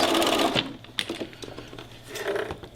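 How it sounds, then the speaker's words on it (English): A sewing machine stitches elastic down on a tote in short bursts of rapid mechanical clatter, starting and stopping between pauses, close and clear. "go all the way to the end and sew it down so that it's in there a couple times"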